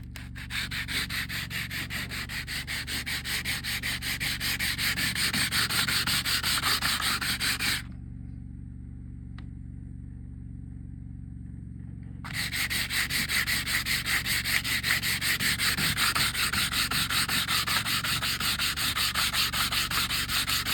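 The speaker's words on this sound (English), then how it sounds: "sand this bridge to this 12 string down" Close, steady sanding of a wooden bridge for a 12-string guitar, done outdoors in the desert. The rubbing strokes run continuously and loudly, stop for about four seconds, then resume at the same pace.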